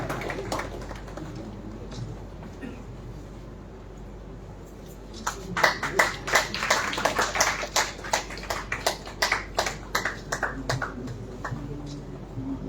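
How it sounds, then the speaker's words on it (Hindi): Scattered clapping builds into a round of applause from a modest crowd at a Hindi poetry award ceremony, the claps irregular and fairly close, over background murmur and room noise. "जोरदार तालियों से स्वागत कीजिए"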